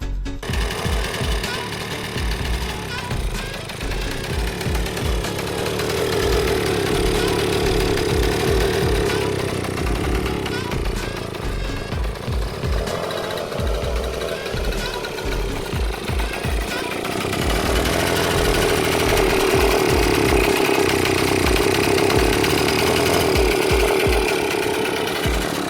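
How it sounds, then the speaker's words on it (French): A restored Yamaha DT50MX 50cc two-stroke motorcycle engine, newly fitted and running after ignition trouble with spark plugs, putters and idles close by in a rapid uneven crackle, rising briefly in pitch and loudness midway, loud and continuous with no talk. "J'ai finalement réussi à faire démarrer la moto et voici ce que ça donne."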